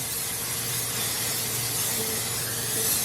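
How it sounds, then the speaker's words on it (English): A brief, steady hiss of cooking spray from an aerosol can onto a Teflon pan, close and continuous throughout. "So I give the pan a little spray."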